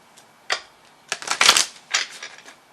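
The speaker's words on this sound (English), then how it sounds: "so I'm going to shuffle real fast" A deck of tarot cards is shuffled quickly, giving bursts of crisp riffling and flicking, with a short snap, then a dense flurry, then a final smaller ripple.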